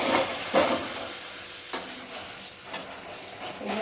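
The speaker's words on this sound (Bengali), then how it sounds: "এখন এই চালটার মধ্যে আমি আলুটাও ভেজে নিচ্ছি নুন হলুদ দিয়ে।" Potatoes fried in a pan with salt and turmeric, a close, steady sizzle with crackling bursts and stirring scrapes, no voices.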